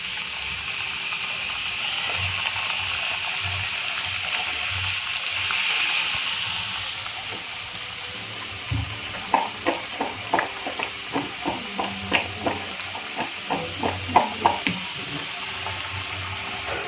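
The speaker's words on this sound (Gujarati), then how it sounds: "હવે આને આપણે ફ્રાય કરી દઈશું ગરમ" Sliced red chip potatoes drop into hot oil in a home kitchen while cooking crispy chilly potato, and a series of close, crackling sizzles and spatters rises and continues in short bursts.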